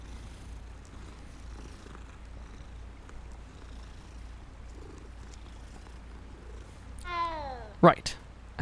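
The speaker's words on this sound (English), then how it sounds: "Hello, kitty." A cat in Hogwarts Legacy purrs softly beneath quiet ambience, then lets out two short, louder meows near the end.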